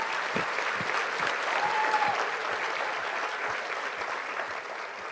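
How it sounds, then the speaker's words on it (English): Dense, sustained audience applause at a community foundation awards event, a large crowd clapping evenly and continuously for several seconds with no talk over it. "Let's give her a big round of applause."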